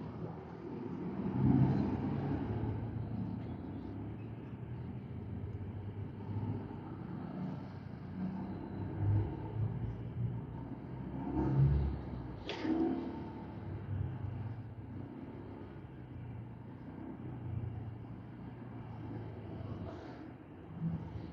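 School bus engine rumbling nearby behind the speaker, a continuous low drone with gentle swells and a single sharp click midway, and no clear talking over it.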